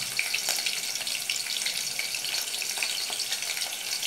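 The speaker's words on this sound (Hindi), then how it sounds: "तीन आलू डाल रही हूँ फ्रेंड्स, छील के अच्छी तरह धो के।" Peeled, washed potatoes drop into a pan of curry on the stove, giving a steady, close hiss of frying with faint watery crackle throughout, no voices.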